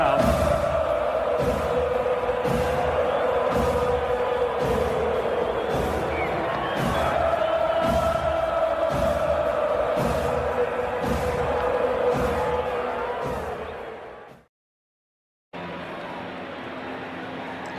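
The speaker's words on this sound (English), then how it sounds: "This crowd's back into it now" A baseball stadium crowd cheers and roars in a sustained, echoing swell with rhythmic clapping or thumping throughout, then it cuts out briefly before the crowd noise resumes.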